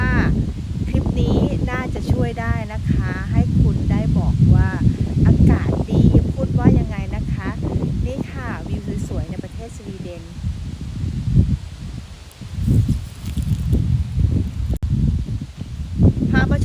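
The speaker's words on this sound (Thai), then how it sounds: "มีเสียงลมชัดเจนมากนะคะ" Autumn wind blows steadily outdoors in Sweden, a constant low rushing with a soft rustle of leaves throughout, while someone speaks over the first part.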